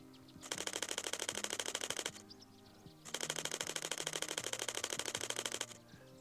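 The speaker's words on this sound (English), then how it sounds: "So if we do take a burst of shots" Canon R7 mirrorless camera firing two rapid bursts of shutter clicks, each a dense even rattle lasting about one to two and a half seconds, separated by a short pause, close and fairly quiet.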